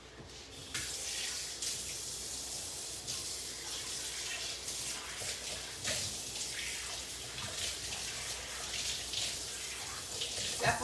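Running tap water rinses a kitchen scooper used for cinnamon muffin batter, a steady close splashing stream that carries on for about eleven seconds with no talk over it.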